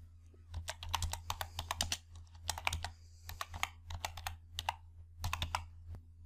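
Clicky computer keyboard typing in bursts of quick keystrokes with short pauses between, close and moderately loud while someone enters formulas in an Excel spreadsheet.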